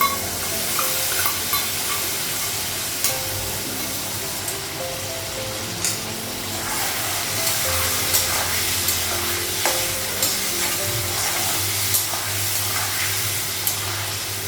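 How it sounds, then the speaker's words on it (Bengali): A spice paste of cumin and coriander powder with ginger-garlic paste, added to fried potatoes and onion, sizzles steadily in a pan while a utensil scrapes and stirs it in repeated, regular strokes, close by. "মশলাটা একটু ভেজে দেবো।"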